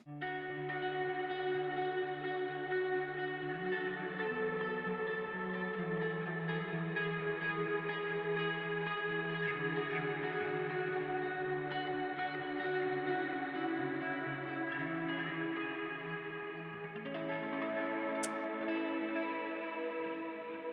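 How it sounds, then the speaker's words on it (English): A clean electric guitar drenched in reverb and delay from pedal effects rings out in sustained, layered chords and notes with long echoing tails, played alone for about twenty seconds. "Put a little reverb and delay on there."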